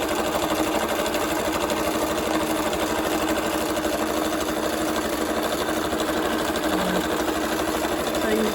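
Sewing machine stitching over fabric on a water-soluble stabilizer base, a steady continuous whirring hum held at even loudness throughout, running alone without talk.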